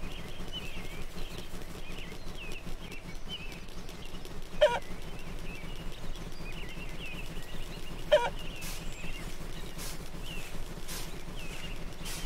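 Cartoon chickens cluck steadily in a farmyard scene at low volume, with two brief sharper squawks standing out; no one speaks.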